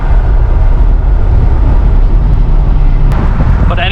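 Chevrolet 2020 C8 Corvette with its naturally aspirated LT2 V8 accelerating, a loud, continuous deep engine roar heard from inside the car, steady and dense throughout.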